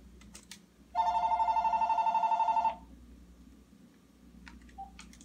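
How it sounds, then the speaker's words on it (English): Telephone ringing indoors, one sustained trilling ring of about two seconds, fairly loud against a quiet room with faint background clatter. "Oh, and the phone's ringing too."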